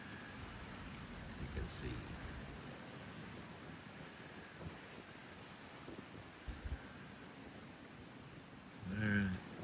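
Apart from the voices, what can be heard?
rain falling outside during Hurricane Gabrielle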